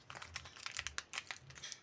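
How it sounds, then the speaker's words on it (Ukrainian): Black paper surprise packet being opened by hand, a quiet, close run of crinkling and rustling with uneven bursts of paper handling. "Зараз будемо відкривати чорний пакетик."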